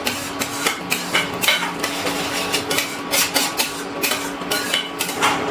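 Paneer korma being stirred and mixed in a pan on an induction cooktop after kasuri methi is added, with repeated clinking and scraping of a utensil against the pan in an irregular rhythm, close and fairly loud, no talking.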